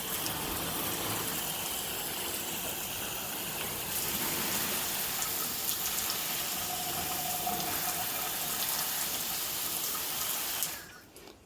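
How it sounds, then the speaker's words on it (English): Water poured into a spin base planter, a steady hiss and splash of running water for about ten seconds before it stops abruptly, close and fairly loud with no talking. "I can add some water on this side now."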